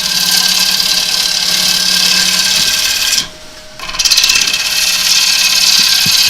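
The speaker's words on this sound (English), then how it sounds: "So I'm just slicing the timber." Wood lathe with a turning tool slicing timber for a pedestal bowl, a loud continuous hissing cut over the machine's hum, briefly dropping away mid-clip before resuming.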